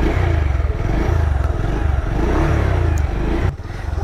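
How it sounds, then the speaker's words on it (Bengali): A Bajaj Pulsar 150 single-disc motorcycle engine runs close by with a steady, thumping idle of rapid low pulses, dipping briefly near the end. "Let's start the engine."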